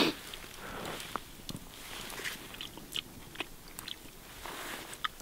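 Cooked shrimp being bitten and chewed outdoors on a bushcraft trip in Scotland in October, with a few short, close crunches over a soft background hiss.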